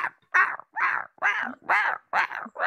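A pet dog named Honey barks loudly and close by, giving six or seven sharp, evenly spaced barks with brief pauses between them and no voices over them.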